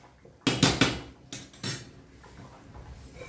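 Metal spoon clanks and scrapes against a pressure cooker pot while rice for veg biryani or pulao is stirred, a few sharp close knocks in two short bursts followed by quieter scraping.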